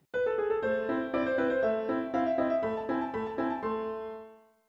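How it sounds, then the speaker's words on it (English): Mozart's Turkish March from the Piano Sonata in A played on piano, a quick bright melody of crisp repeated notes over steady low accompaniment, close and clear, ringing out at the end with no voices. "Let's start with the Turkish March from Mozart's Piano Sonata in A."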